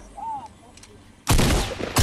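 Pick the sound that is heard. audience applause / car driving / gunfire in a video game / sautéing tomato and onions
gunfire in a video game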